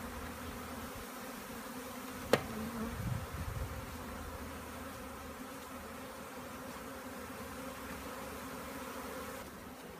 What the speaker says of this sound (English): I also take care of bees.